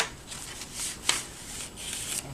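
Paper envelope torn open by hand, aiming to keep it fairly intact: a soft, close series of rustling rips and crinkles with one sharp tearing snap midway, no talk.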